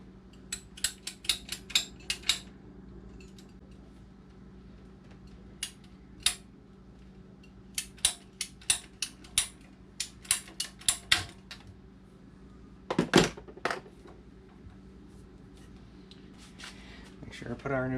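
A cutter clicks and snaps repeatedly through PEX plumbing pipe, giving sharp bursts in quick uneven clusters with pauses between them and a low steady hum underneath.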